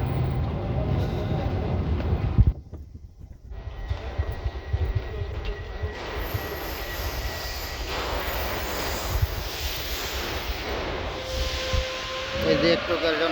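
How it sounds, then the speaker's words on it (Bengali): A Paris metro train pulls out of an underground station. A loud roar and a sharp hiss of brakes or doors cut off, then a rising rumble of wheels with a squeal near the end, and a voice speaks over it. "এই যে একটু জন্য চলে যাচ্ছে মেট্রো।"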